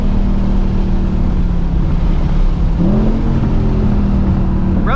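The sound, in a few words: 2024 Ford Mustang Dark Horse engine rev-matching on downshift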